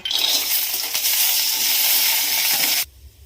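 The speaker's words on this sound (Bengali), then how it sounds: "সবজি ভাজা তেলে চিনে বাদামগুলো একটু ভেজে নেব" Peanuts sizzle and hiss loudly and steadily in hot oil that was just used to fry vegetables, then the sound cuts off sharply near the end.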